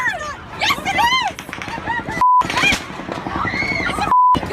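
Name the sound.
gunfire during the Las Vegas shooting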